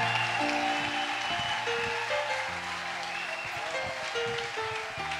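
A church congregation claps for a visiting pastor, the applause mixed with loud sustained keyboard chords that step between notes, filling the space steadily throughout.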